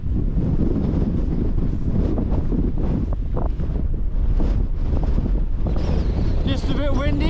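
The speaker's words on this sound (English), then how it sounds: "Just a bit windy." Strong wind buffets a hilltop camp spot by an old wall, roaring gusts hitting the microphone nearly continuously and loudly, with faint voices appearing toward the end.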